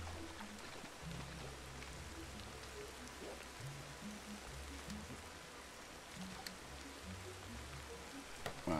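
Rain falls steadily in the video game Ancestors: The Humankind Odyssey, a dense even hiss of drops on surfaces with low rumbling tones underneath, no voices.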